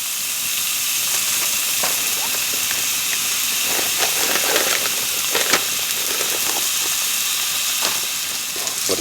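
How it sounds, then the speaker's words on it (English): Steak frying with mushrooms and onions on a wood stove inside a hot tent: a loud, steady sizzle and hiss throughout, with small pops and crackles, close up and without talk. "Oh, love that sizzle."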